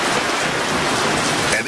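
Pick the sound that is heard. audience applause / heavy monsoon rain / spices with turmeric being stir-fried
heavy monsoon rain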